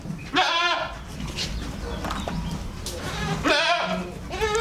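A Boer goat and her kids bleat close by on a goat farm, with a loud cry near the start, another around the fourth second and a third cut off at the end, over a low background hum.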